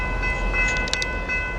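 A Norfolk Southern train passes on the tracks of the West End District near Atlanta, giving a steady close rumble overlaid with sustained high metallic tones.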